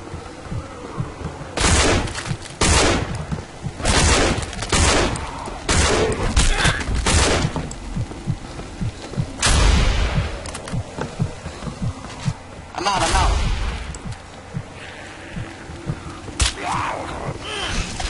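Bursts of gunfire ring out in the zombie survival game No More Room In Hell, loud repeated shots spaced irregularly across the stretch, with some quieter rumbling between volleys.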